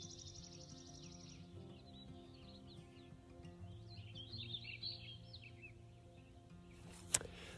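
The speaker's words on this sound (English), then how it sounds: "The birds are singing" Birds sing at a wet mountain campsite in the Wind River Range at sunset, faint chirps and song phrases drifting over a quiet backdrop, with a soft click near the end.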